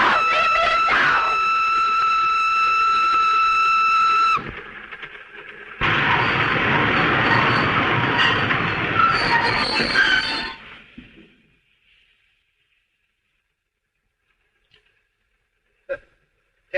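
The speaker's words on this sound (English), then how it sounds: "For heaven's sake, stop this train." A train runs on rails in a 1938 film scene, giving a loud, steady rumble with a whistle-like tonal blast at the start and a second burst of clatter, then fading quickly into near silence.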